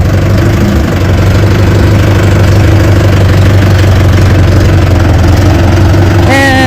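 A loud tractor engine idles steadily and close by with a low, constant rumble throughout, and a faint voice appears briefly near the end.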